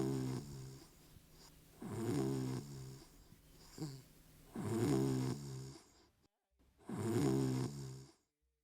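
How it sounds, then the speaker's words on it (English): A guy sleeping lets out slow, rhythmic snores, four long rasping breaths with short pauses between them, fairly close and alone. "Is that guy snoring?"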